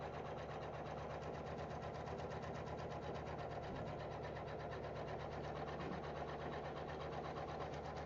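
An embroidery sewing machine stitches a pocket onto a Kimberbell tooth fairy pillow, a steady, fast mechanical whirring hum that runs unbroken and fairly quietly throughout.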